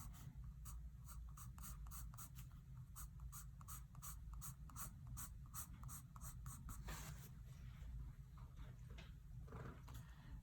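A graphite pencil draws hatching lines on paper while shading a sphere. Close, quiet strokes repeat in a quick, even rhythm, then become denser and scratchier toward the end, with no voices.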